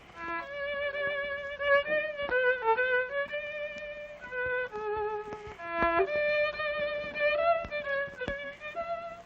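A violin melody with sustained bowed tones and slides, several phrases played one after another at moderate volume, no voices.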